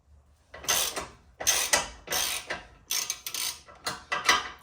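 A ratchet wrench backs out 12 mm bolts during an oil cooler install on an Infiniti Q50 with a VQ37 engine, giving about six close, loud bursts of rapid clicking separated by short pauses.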